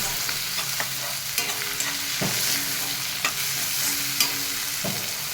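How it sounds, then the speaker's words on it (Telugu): Cucumber pieces frying with onion and curry leaves for a village-style cucumber chutney, a steady close sizzle broken by several sharp stirring scrapes and taps of a spoon in the pan, with no voices. "ఇప్పుడు మనం దోసకాయ వేసుకుందామండి. కొంచెం లైట్గా వేగితే సరిపోయిద్దండి."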